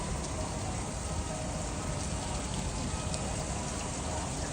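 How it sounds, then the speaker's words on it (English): Steady rain falls on a New York street, a dense, even hiss of drops that continues unbroken and fairly loud, with no voices over it. "Come on, Rain. Stop so I can continue to walk."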